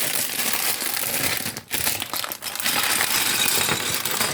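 Plastic packaging of a Lego Super Mario set being unpacked, steady close crinkling and rustling with two brief pauses, loud and continuous, no talking.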